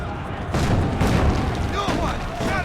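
Cannon fire during a siege in Assassin's Creed Brotherhood, repeated deep booms in quick succession amid battle noise, with voices shouting over them.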